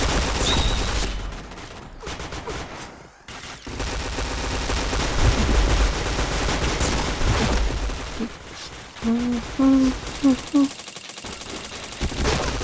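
Rapid automatic gunfire and shots in the online shooter game Point Blank, bursting repeatedly and loud, with a voice talking over the fighting partway through.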